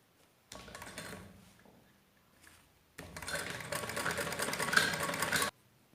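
A sewing machine stitches the sleeve of an umbrella gown in two bursts, a short run followed by a pause and then a longer, steadier rattling run close by.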